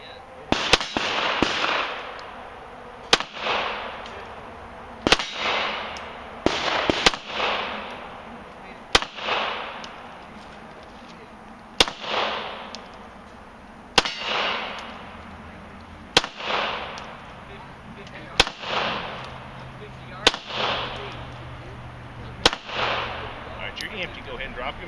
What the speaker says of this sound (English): Get on up on the gun. There you go. Line your sights up. Squeeze the trigger.